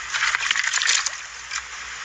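A stick pushed and swirled through shallow creek water makes a brief close sloshing and trickling splash that fades after about a second.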